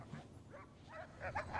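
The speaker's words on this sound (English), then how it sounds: "That's Nate's house with those dogs?" Dogs bark at a house in a scene from a TV drama, with several faint, distant barks and yips scattered across a quiet background.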